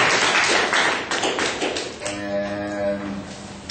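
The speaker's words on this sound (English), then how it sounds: "All right, give a round of applause." An audience gives a round of applause, a dense burst of many hands clapping loudly at first, then thinning as it fades under a brief hum of voices.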